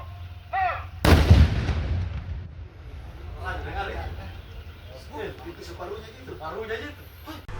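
Fish-bomb detonators and fuses, 856 of them, are destroyed in a single loud, close blast early on, followed by a long fading rumble with people talking and calling out afterward.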